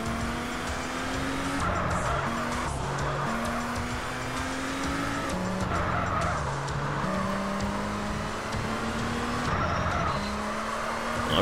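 Race car in GTA San Andreas held at full throttle through a driving-school lap, its engine drone steady and loud with rising and falling pitch as it shifts, tires squealing briefly throughout.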